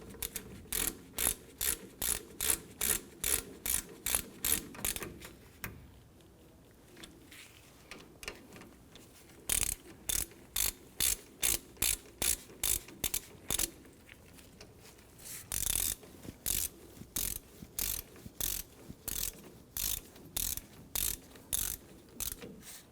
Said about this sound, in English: Let's go ahead and snug down our bolts. We're using a 14mm socket for this.